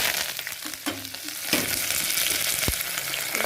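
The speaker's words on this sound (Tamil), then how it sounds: "ஒரே ஒரு பிரியாணி இலை மட்டும் தாளிப்பு போட்டு கறிவேப்பிலை வெங்காயம் போட்டு வணக்கணுங்க." A single bay leaf, curry leaves and onion sautéing in hot oil in a pan, a steady close sizzle with occasional stirring clinks.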